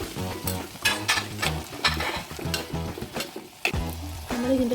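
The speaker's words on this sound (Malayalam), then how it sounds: "ഇനി നന്നായി ഇളക്കി ഒന്ന് ചെറുതാക്കി വഴറ്റി വെക്കണം" Ginger, garlic and curry leaves sauté in a pan, crackling and sizzling close up as they are stirred, with rhythmic scraping strokes and bursts of spatter.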